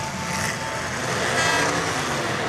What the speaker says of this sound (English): I heard a horn.